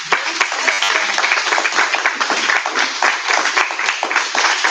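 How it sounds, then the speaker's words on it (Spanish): An audience applauds during an interview event after a small gift is presented, with loud, busy clapping from many hands sustained across the whole stretch, close and lively. "Le damos un aplauso."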